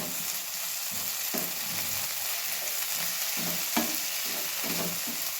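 Crushed peanut powder being stirred into okra frying in a pan, a steady sizzle running throughout with repeated scraping strokes of a spoon at a regular pace, close and fairly loud, with no voices.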